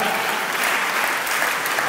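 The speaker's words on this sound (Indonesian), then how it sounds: "Tepuk tangan buat jawaban Anda." Students at a school motivation seminar applaud, steady, dense clapping throughout with a faint murmur of voices underneath.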